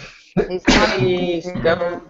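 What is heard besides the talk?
person sneezing into a microphone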